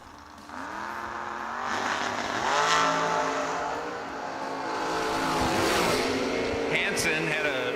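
Drag racing cars at a drag strip event, including a Monza, roar in a long, loud, sustained engine drone with shifting pitch sweeps as a commentator talks over them.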